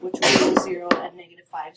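A single sharp sneeze rings out in a high school pre-calculus classroom, a brief broadband burst cutting across a teacher's explanation of math, with talking before and after it.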